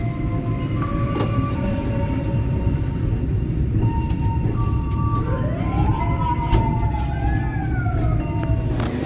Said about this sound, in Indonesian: Kereta api Tawang Alun saat ini telah sampai di stasiun Bangil